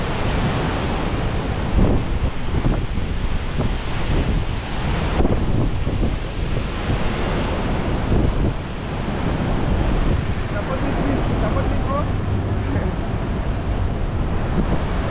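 Dense roaring spray and gusting wind at Victoria Falls on the Zambia–Zimbabwe border, a steady loud wash of water with heavy wind buffeting the microphone throughout.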